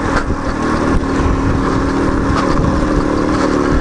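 Shtorm Indigo 125 Cross moped being ridden, its small engine droning loud and close with a rough, rising and steady note mixed with wind rush.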